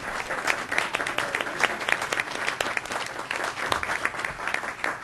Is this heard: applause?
yes